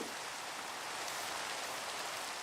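Steady, dense rain patters evenly throughout in Minecraft, a constant wash of falling drops with no pauses.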